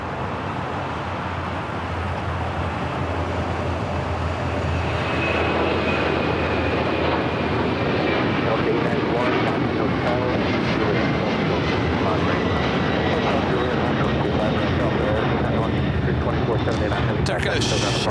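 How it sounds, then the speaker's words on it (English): An airliner bound for Lima, Peru, takes off at LAX with a loud, sustained jet roar that swells and holds across the clip, while a commentator talks over it. "Now we got that flight heading to Lima, Peru. Next takeoff."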